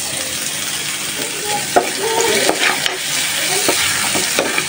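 Onions coated in turmeric and chili fry in hot oil with a steady, close sizzle, broken by several sharp clacks of a spatula stirring the pan.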